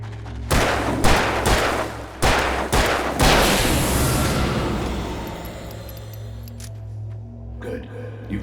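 A burst of gunshots in the survival horror game Alan Wake Remastered: five loud, sharp cracks fire in quick irregular succession, then a long rumbling echo fades out over a steady low drone.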